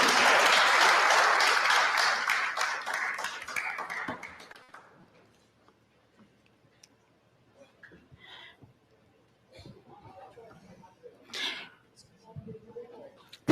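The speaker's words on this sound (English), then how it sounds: "Let's give him a round of applause, please." Loud applause from an audience lasts several seconds, then fades out, followed by quiet and scattered talking.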